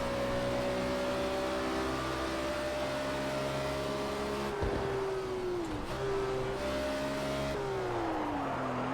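A race car engine in Project Cars 2 at Dubai Autodrome Club drones steadily, then the throttle opens and the pitch climbs in rising revs. Brief dips and shifts break the sustained, close engine tone.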